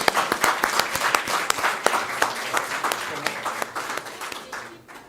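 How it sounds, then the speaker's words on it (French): A crowd applauds steadily at an awards ceremony in Senegal, many hands clapping in a dense, lively patter that gradually fades toward the end, with some talk mixed in. "Et ça, il faut l'applaudir."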